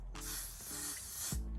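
Three quick bursts of hair spray hiss close up, the last one longer, with faint low clicks from the nozzle between them.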